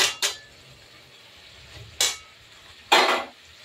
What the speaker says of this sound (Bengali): এই সময় আমি আলু আর কপিটা দিয়ে দেবো